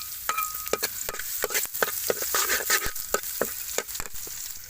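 Garlic frying in oil, sizzling steadily with a spatula scraping and stirring in quick repeated strokes, close and fairly loud throughout.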